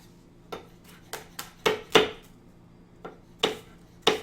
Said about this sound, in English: As you can hear, my knife is not sharp at all.